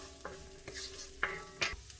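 Onion frying in a pan for chicken curry and stirred in a few quick scrapes, soft clinks and a faint sizzle over a few seconds.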